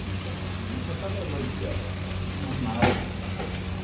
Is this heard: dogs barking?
no